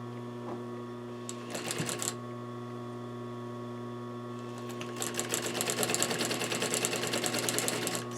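A sewing machine stitches the sides of a bench cushion at a half-inch seam allowance, close by: a short burst of rapid needle chatter, a pause over a steady motor hum, then a longer, faster run of stitching.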